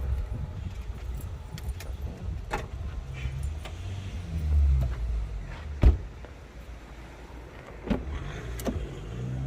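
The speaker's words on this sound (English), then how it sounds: "Push this button to close tailgate." A car's powered tailgate motors shut at the push of a button, a low whirring hum building near the middle and ending in a sharp solid thud, followed later by a softer knock, over a quiet low rumble.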